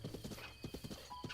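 Horse hooves clip-clop in a quick steady rhythm while a neigh rings out, from a horse in the video game The Legend of Zelda: Breath of the Wild, fairly close and with no talking.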